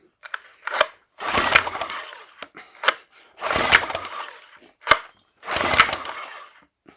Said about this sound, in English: So now I'm just going to pull the cable and see whether we get a spark on it.